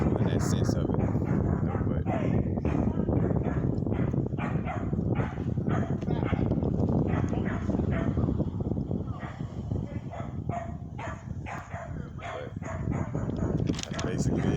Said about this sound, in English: As the dogs start barking and fussing.